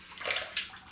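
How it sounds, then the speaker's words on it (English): Water splashing and sloshing as a shaving brush is wetted, two short bursts of watery noise close by with no talk. "brush is getting wet."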